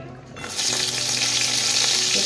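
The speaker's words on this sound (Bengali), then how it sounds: "বড়ি ভাজবো তো।" Bori, small lentil dumplings, fry in oil with a loud, dense, continuous sizzle that swells in after a brief quieter start and holds steady up close.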